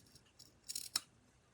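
Scissors cutting through a thrifted scarf while making a vest, a few quick close snips with one sharp clean cut standing out, heard alone with no talk.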